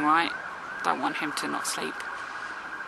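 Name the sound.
siren in the street at rush hour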